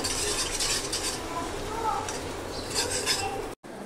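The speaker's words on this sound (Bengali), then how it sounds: "এই চিনিটা ভালোভাবে মিশিয়ে নিব তেলের সাথে" Sugar being stirred into oil left from frying onions in a pan while making chicken kala bhuna, with a utensil scraping and clinking over a soft sizzle, close and continuous, ending in a brief cut.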